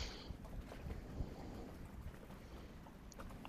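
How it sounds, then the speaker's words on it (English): Steady wind rushing over a Dufour 412 GL 40-foot sailboat at sea off Antigua, a continuous broad roar with rumbling microphone buffeting and faint water noise, no voices. "listen to the wind"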